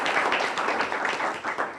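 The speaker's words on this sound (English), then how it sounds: "Please give him a round of applause." An audience applauds in a large hall for a newly appointed school superintendent, a dense, steady clapping that runs loud and close for the entire stretch.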